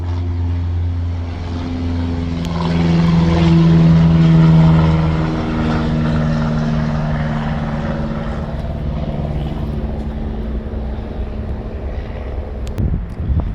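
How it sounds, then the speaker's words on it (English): A Cessna propeller plane circles overhead, its droning engine tone swelling to a peak around the midpoint and then easing off as it passes, with steady wind noise across the microphone throughout. "This guy is circling. It's the third time he's come out here. Cessna plane."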